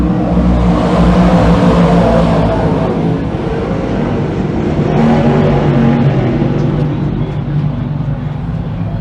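Nine race cars pull away to start a speedway qualifying heat, their engines a loud, continuous roar of revving and acceleration close by, with little letup across the stretch.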